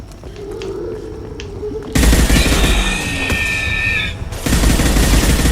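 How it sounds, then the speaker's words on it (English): Rapid automatic gunfire in the shooter game Mass Effect 2, loud and close, sustained bursts that grow denser midway with a brief lull, over a continuous mechanical hum. "Stop firing at me, idiot!"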